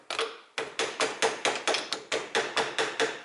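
Repeated sharp hammer blows on a worn Ford front-axle driveshaft part, about a dozen strikes in a fairly even rhythm, close and loud, each with a brief ringing decay.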